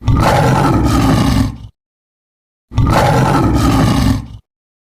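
A lion roar played by a toy animal, two long loud roars separated by a short silence, close and harsh, with no talk.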